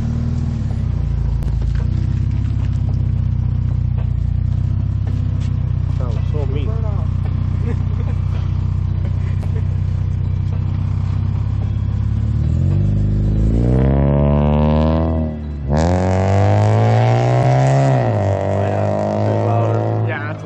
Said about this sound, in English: that car just got way louder